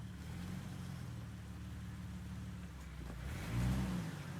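A 2004 Jeep Wrangler TJ Rubicon with a 4.25-inch lift and 35-inch BFG KM3 tires crawling through a rock garden trail: a steady low engine rumble with rough, continuous noise that swells slightly near the end.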